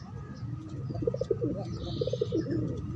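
A Tinggian pigeon coos softly and repeatedly in low, rolling phrases, close by, over a murmuring background.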